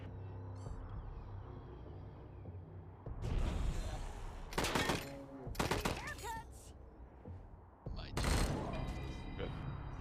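Gunfire in the video game Wasteland 3, several loud bursts of shots and impacts spread across the moment over low ambient game sound.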